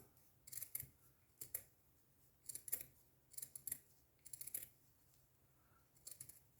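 Scissors snip through burlap fabric for an Easter bunny decoration, making quiet, close, crisp cuts in irregular bursts of two or three snips with short pauses between them.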